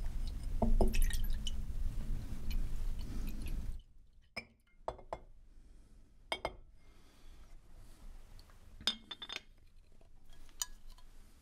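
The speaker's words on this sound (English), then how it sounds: "you've got a glass of port in a whiskey glass" Port poured into a whiskey glass in a quiet cigar store, a soft continuous trickle for the first few seconds, then a string of faint drips and light glass clinks.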